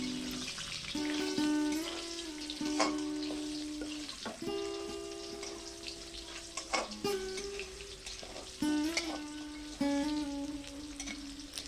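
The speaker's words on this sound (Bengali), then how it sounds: "চুই ঝালটা দিয়ে আরও 1-2 মিনিট মতো ভেজে নেব।" Pieces of chui jhal (chui pepper) fry in oil with cumin for a katla fish curry, making a soft, steady sizzle with stirring, heard faintly beneath clear sustained tonal notes.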